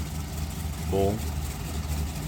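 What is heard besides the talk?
engine of a 1930s Bellanca Aircruiser aircraft idling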